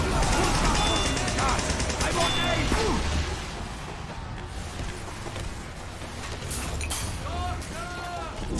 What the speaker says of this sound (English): I see a spy and attempt to gun him down.